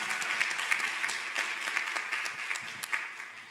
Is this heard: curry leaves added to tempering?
no